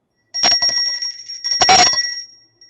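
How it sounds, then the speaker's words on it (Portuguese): Two bright metallic rings of a small bicycle-style bell, each with quick repeated strikes and a lingering ring, loud and close. "Marcelo, agora o homem do sino."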